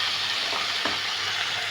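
Pumpkin curry sizzles steadily in a pan while being sautéed, a constant bright crackle with a single scrape of stirring partway through.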